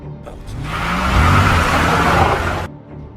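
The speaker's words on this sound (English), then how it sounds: "Matteo surprises his partner and leaves with his car." A car pulls away with a steady rising engine roar that swells over a couple of seconds and then cuts off, close and fairly loud.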